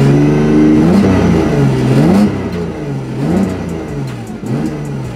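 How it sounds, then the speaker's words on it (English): Lexus SC300 engine revving up and down in repeated surges, loud and close, each rev climbing then falling back toward idle, with no talking. "But watch the battery light when I rev it up."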